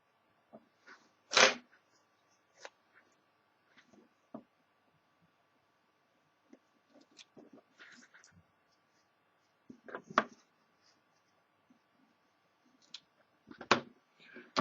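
An Opuntia elata cactus is being cut with a blade for grafting. Sparse, faint clicks and soft scraping sounds are scattered across a quiet background, with a few sharper, louder snaps standing out.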